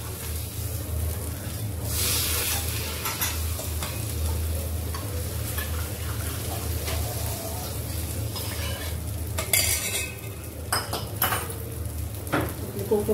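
Tempering of asafoetida, curry leaves and chopped chilli for kokum kadhi, a steady close sizzle in hot oil with occasional metal clinks and stirring scrapes against the pan.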